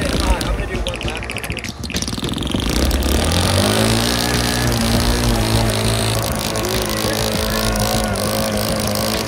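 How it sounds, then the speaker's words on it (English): A waterproofed dirt bike engine runs while being ridden underwater, a close, loud droning motor whose pitch climbs and then holds steady, with a voice speaking over it. "bike engine is gonna work completely underwater"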